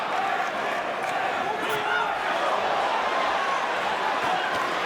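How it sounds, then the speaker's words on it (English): An arena crowd roars at a boxing world title fight, a dense, sustained wall of cheering with a commentator talking over it. "This crowd is loving this title fight already."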